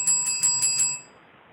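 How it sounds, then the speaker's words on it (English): A hand bell rings in quick repeated strokes, bright and close, for about a second before fading into quiet. "I like ringing the bell because I like to annoy people"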